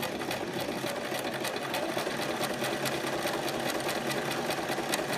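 Sewing machine stitching with an overcast foot, the needle zigzagging either side of a centre blade; a steady, fast mechanical whir with regular ticking beats, close and continuous.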